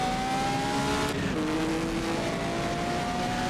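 A 1950s Formula 1 car in rFactor 2 on the Solitude circuit, its engine droning loud and close at steady revs with a faint pitch shift as the gears change, no voices.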